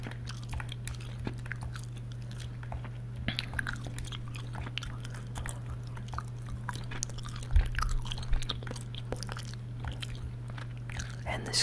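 Soft, wet chewing of minty gum sits close to the mic, with irregular clicks and taps from a game controller in the background of a quiet room.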